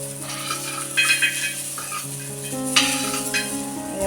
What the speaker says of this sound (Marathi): बघा, लसूण पण थोडी परतून घेते मी